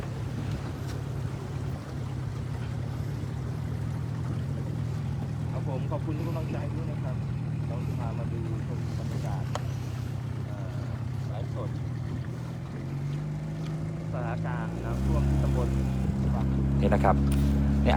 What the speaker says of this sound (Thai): ก็ต้องใช้เรือนะฮะ ล่องไปตาม น้ำนะครับที่ท่วมทุ่งแบบนี้